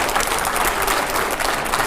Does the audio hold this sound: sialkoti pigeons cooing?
no